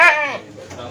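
A goat bleats at an Etawa dairy goat farm in Lubuklinggau, a short loud wavering cry that fades quickly into background murmur.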